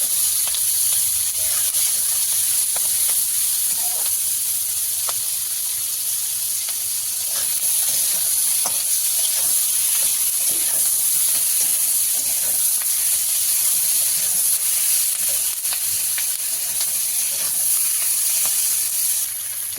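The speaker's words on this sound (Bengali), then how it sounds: "গ্যাসের ফ্লেমটাকে বাড়িয়ে এটা ভাজতে হবে, নইলে ক্যাপসিকাম আর পেঁয়াজটা খুব নরম হয়ে যাবে।" Sliced onion and capsicum fry in hot oil over a high gas flame, giving a constant loud sizzle and hiss with scattered small crackles and pops.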